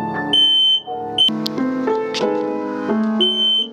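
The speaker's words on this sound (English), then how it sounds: "Yes. Fire alarms." A smoke alarm sounds loud and close, with piercing high beeps mixed with electronic tones.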